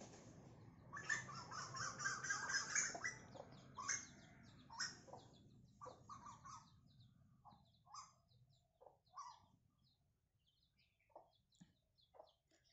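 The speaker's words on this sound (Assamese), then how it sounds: "আপোনালোকক কুলি চৰাইৰ মাত শুনাই আছোঁ।" A bird believed to be a koel calls in the open, faint excited chattering notes bunched at first, then sparser short calls scattered over quiet background hiss.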